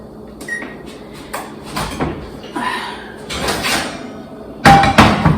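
An oven door opens and shuts as meat goes in to roast at 350, giving a few clunks and knocks amid kitchen handling noise, with a sharper closing thump near the end.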